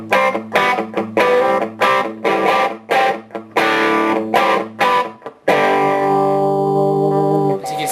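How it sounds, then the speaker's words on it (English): An electric guitar runs through a Shark distortion effect pedal in classic normal mode with gain and tone at noon, loud chopped chords in a stop-start rhythm, then one long ringing chord left to sustain. "you get very clear, solid distortion there"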